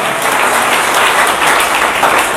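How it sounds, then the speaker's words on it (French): University students in a crowd at an outdoor public speech applaud loudly and steadily, a dense wash of clapping that continues throughout. "Si les étudiants de l'UNIMBA sont là, peuvent acclamer."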